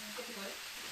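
Meat for kebab fries in a pan, a faint, even sizzle and hiss lasting the whole short moment.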